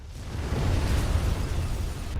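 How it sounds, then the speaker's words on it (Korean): Car exploding after tumbling down a slope in the film Taken 3: a loud, broad roaring blast that swells and rumbles continuously for a couple of seconds, with no voices over it. "차에 탄 채 경사지로 굴러떨어지고 차량이 폭발하게 되는데"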